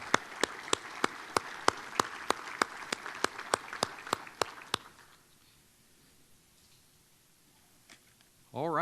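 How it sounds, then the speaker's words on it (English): Luncheon audience applauding, heard as sharp, evenly spaced claps in a steady rhythm for about five seconds before the room drops into near silence. "So if I could get a big round of applause for both Prairie Farms and Hendrickson"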